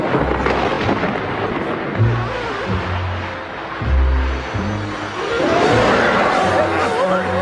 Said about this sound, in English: All at once, one very large bolt hit the water.